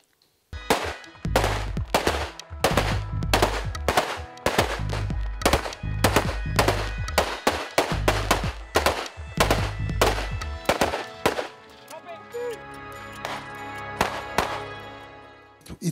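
A CZ 805 BREN assault rifle fires on a test range in a run of loud, sharp shots in quick bursts and singles, its echoes trailing off before a final few scattered reports.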